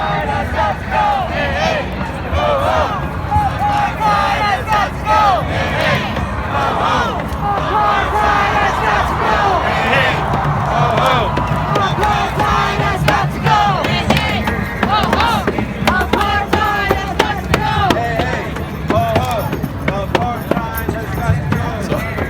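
A large rally crowd in Washington DC chants and shouts in rhythmic bursts demanding a Gaza ceasefire, with drumming and a dense babble of many voices close by throughout.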